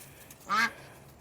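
A single short, nasal quack from a duck in a backyard coop, fairly close and standing out alone over quiet background noise.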